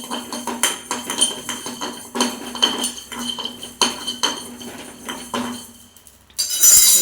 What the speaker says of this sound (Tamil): கொத்தமல்லி போட்டு வறுத்துக்கலாங்க.